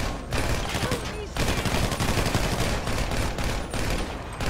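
Dense, rapid gunfire rings out in the video game GTA 5 Online as a vehicle's tire is shot at, a loud sustained burst of shots with a brief pause before it resumes.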